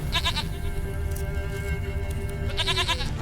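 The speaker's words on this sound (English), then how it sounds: "Here, goat." A stubborn goat in the video game Witcher 3 bleats in short, wavering bursts at the start and again near the end, close and clear over a continuous game ambience.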